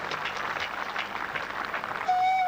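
An audience claps before a Punjabi folk song performance, a short stretch of steady crowd applause with a faint tonal note entering near the end.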